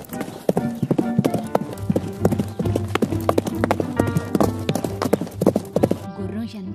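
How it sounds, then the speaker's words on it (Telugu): A horse gallops in a children's animated story about a horse racing a snail, its hooves clip-clopping in a quick, steady rhythm. The hoofbeats stay close and loud, with a tonal background running throughout. "దాంతో మరింత వేగంగా పరిగెత్తింది గుర్రం."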